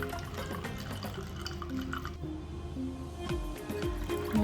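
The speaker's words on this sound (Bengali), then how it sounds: "এবার ব্লেন্ড করা তরমুজটা ছেঁকে নিচ্ছি।" Blended watermelon is strained into a glass over ice, salt, sugar and lemon juice, making faint dripping and squishing liquid sounds with soft splashes as it trickles in.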